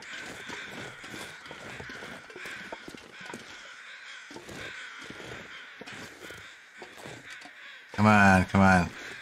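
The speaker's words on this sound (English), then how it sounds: "The sound of crows." Crows keep cawing in a wintry survival game landscape over a constant wind hiss, and near the end a voice speaks loudly over the calls.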